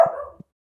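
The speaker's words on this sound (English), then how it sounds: "apologies for the dog barking" A dog in an Arctic Motel Simulator game gives a single short bark, followed by a faint low thump, fairly close and heard alone.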